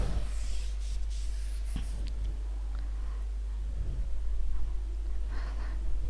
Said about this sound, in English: I am rubbing the board.